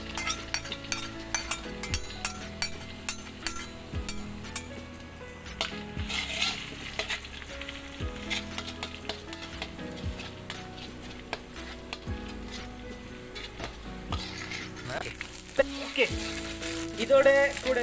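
A ground paste of belacan, garlic, ginger and chili fries in hot oil, sizzling steadily while a utensil stirs and clinks against the pan, with someone talking over the cooking.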